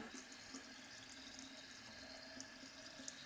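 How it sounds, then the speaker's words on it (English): Homebrewed 6.4% NEIPA runs from the tap of a Grainfather fermenter into a glass. It makes a faint, steady trickling stream with a few small splashes and no talking. "this tap will take from the beer. So just gonna pour into here."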